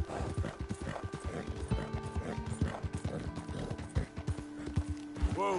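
Horse hooves clip-clop steadily on the ground in Red Dead Redemption 2, a close, rhythmic trot with an occasional whinny near the end, set against soft game music and ambience.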